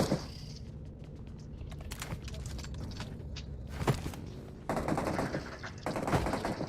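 Gunfire in BGMI mobile battle royale gameplay during a dinosaur theme mode, with bursts of rapid automatic shots and scattered single cracks over a steady game background, loud and close, with no voices.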